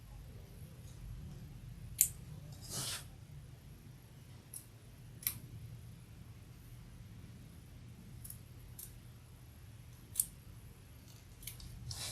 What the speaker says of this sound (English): Yeah, I think these scissors are a little easier.